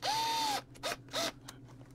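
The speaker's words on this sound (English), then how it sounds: "And get that screwed down." Small screw driven down to secure a USB charging port into a 1:18 scale Mitsubishi A6M Zero Fighter model kit: a whirring powered drive for about half a second, then two shorter bursts and a faint tick, close and clear.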